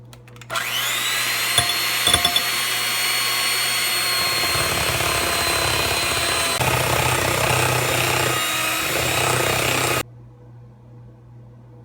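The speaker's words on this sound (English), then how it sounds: "here I'll use the hand blender" A hand blender beats eggs and sugar for a French apple cake batter, a loud continuous motor whine with steady high harmonics, a couple of knocks against the bowl near the start, then cutting off abruptly.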